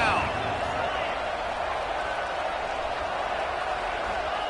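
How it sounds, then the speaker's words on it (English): A Red Raider stadium crowd roars for its defense on third down at a college football game, a broad, sustained wall of cheering and noise that holds steady throughout with no break. "The Red Raider crowd rising to the occasion to help"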